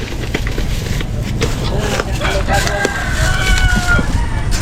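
Rooster crowing and chickens clucking in a barracks yard with livestock nearby, the crowing curling through steady background noise while people chat in Filipino.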